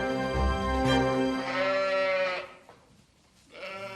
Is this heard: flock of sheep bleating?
yes